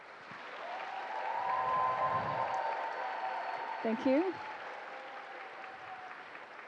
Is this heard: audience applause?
yes